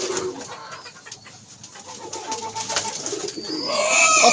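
Pigeons coo softly nearby, low repeated throaty calls over faint background rustle and chirps from other birds.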